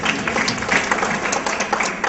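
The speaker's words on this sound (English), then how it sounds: "We applaud you." An audience at a staged mock trial event claps steadily, a dense burst of applause lasting a couple of seconds.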